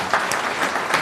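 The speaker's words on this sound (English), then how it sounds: "Big round of applause for him." Applause from the audience at a city council meeting in Modesto, a steady broadband patter of clapping filling the whole short moment at moderate loudness with no talk over it.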